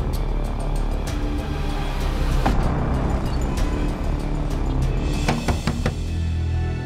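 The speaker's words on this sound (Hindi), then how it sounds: "तारिक सर, गाड़ी निकालो।" A car engine runs and moves off in a dense, steady low rumble with scattered clicks and knocks, loud and close, with no voices.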